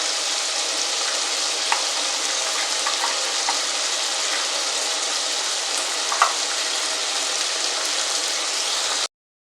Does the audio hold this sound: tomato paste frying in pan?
yes